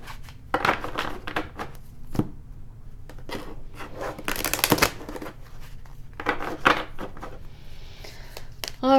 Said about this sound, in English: Now let's shuffle the cards